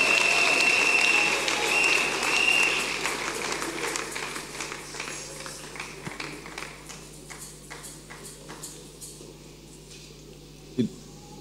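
A church congregation applauds at a Sunday service, a loud, dense roar of many hands clapping that thins into scattered individual claps and fades, with a few voices mixed in.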